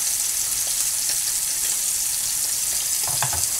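Onions for a steak sandwich sweat in a pan with a soft, continuous sizzle, steady and close, with faint clinks near the end.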